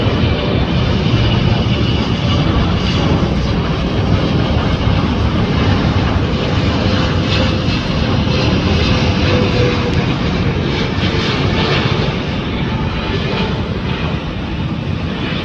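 An EVA Air airliner arriving from Taipei flies past at LAX, a loud, steady broadband jet roar that holds for the whole stretch with no voices over it.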